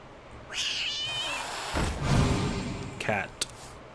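A cat meows in a Hearthstone card game, a short rising cry followed by a thud and a second brief meow, with someone speaking over it.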